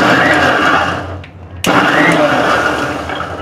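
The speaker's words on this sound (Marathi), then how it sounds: "आता आपण मिक्सरला वाटून घेऊ।" A mixer grinder grinds green chillies, coriander, mint, spinach, onion and cashews into a fine green paste, a loud steady whir that dips briefly mid-run before resuming at full strength.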